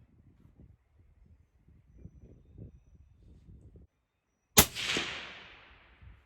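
A single sharp rifle shot from an Accuracy International chambered in 6mm Creedmoor, loud and close, with a ringing decay into the open air after some quiet low rumbling.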